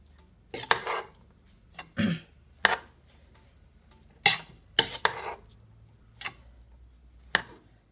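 Prawn fried rice with mixed vegetables, Guyanese style, stirred in a pan: a spoon scrapes and tosses the rice in short, close bursts about every half second to second, with quiet gaps between and no talking.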